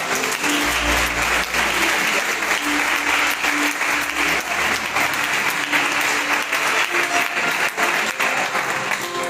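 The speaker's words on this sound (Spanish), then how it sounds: "¿Cuántos pueden dar un aplauso a su palabra?" A church congregation claps together after a scripture reading at a Spanish-language service, dense sustained applause at close range with faint low tones underneath, continuing evenly for the whole stretch.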